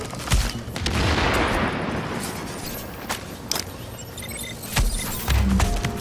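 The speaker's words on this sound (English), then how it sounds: "I'm getting shot again for the wall." Rapid bursts of gunfire from the video game The Division fill the scene, with sharp shots and a volley in a firefight, loud and continuous over a rumbling background.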